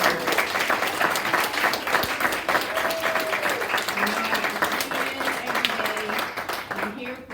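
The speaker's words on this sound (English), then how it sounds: "Help me just give another round of applause to all of our students" An audience at a summer music recital gives the students a sustained round of clapping, dense and fairly loud throughout, with a few voices and faint sung or whistled tones rising over the applause.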